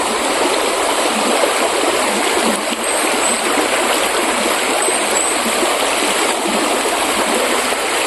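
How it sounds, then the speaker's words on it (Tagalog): A strong, fast-flowing stream rushes loudly and continuously close by, a dense steady roar of water with faint splashing and gurgling. "Lakas ng tubig."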